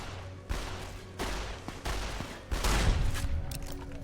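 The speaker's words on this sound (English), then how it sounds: "That's a shotgun." Four heavy shotgun blasts from Fallout New Vegas, evenly spaced roughly every two-thirds of a second and close and loud, each booming report leaving a rumbling tail.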